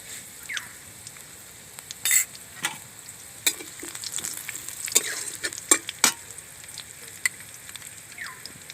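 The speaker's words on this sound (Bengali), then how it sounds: "এবার ওর মধ্যে দিয়ে দেবো সাদা তিল আর চিলি ফ্লেক্স দিয়ে কিছুক্ষণ ভালো করে ভেজে নেব" White sesame seeds frying in a pan over low heat and being stirred, a steady soft sizzle with scraping stirs and small crackling pops throughout, close and clear with no talking.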